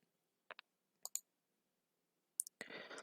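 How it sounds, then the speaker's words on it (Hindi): Computer mouse clicks on a Generate Labels button on the Flipkart seller dashboard, several sharp, quiet paired clicks in near silence, closing with a short burst of rustling noise. "तो जनरेट लेबल्स पे आप क्लिक करेंगे।"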